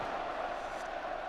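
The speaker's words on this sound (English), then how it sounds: "Now watch this crowd find its voice" A football stadium crowd at a Liverpool v Arsenal League Cup quarter-final roars in a steady, dense wash of voices, loud and continuous throughout.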